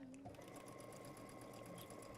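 A sewing machine stitches strips along the side for a small tulip wall hanging, humming steadily and fairly close for the whole couple of seconds without a pause.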